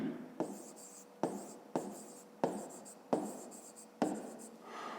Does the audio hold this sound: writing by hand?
yes